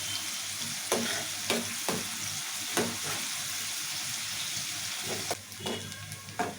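Onions frying in oil for a cauliflower curry, a steady close sizzle broken by several sharp stirring scrapes, with no talking.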